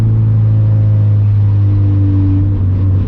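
A loud, steady low engine drone from a turbocharged Toyota FRS making over 350 horsepower holds close and constant, rising slightly at the end.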